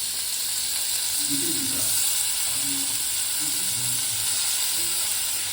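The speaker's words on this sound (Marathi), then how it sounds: "इथे मी कढई गरम करायला ठेवली आणि आता मी यामध्ये तूप टाकलंय आणि पनीर मस्त फ्राय करून घेणार आहे" Paneer fries in hot ghee in a kadhai, giving a loud, steady, close sizzling hiss that runs throughout, with a few low bumps and stirring sounds underneath and no talk.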